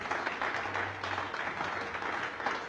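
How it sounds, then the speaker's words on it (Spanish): A church congregation applauding during a sermon, giving a steady, dense wash of clapping that carries on without pause and sounds somewhat distant in a large hall. "Den un aplauso al Señor por esa gente."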